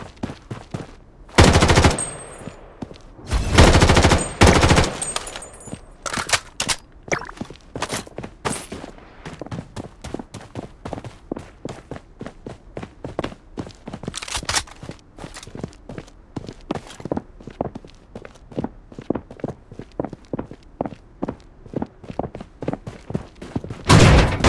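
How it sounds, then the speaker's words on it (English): Automatic gunfire and footsteps from the Blood Strike shooter game, with loud bursts and rapid rattling shots over constant running steps, heaviest near the start and again toward the end. "Taking fire!"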